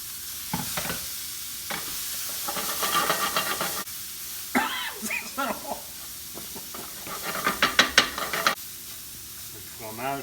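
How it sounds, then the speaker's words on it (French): A broccoli mixture sizzles and hisses as it fries in a hot pan, with bursts of crackling and stirring scrapes rising and falling, close and fairly loud, with no talk over it. "Je mets le mélange de brocoli. On va faire revenir ce mélange-là"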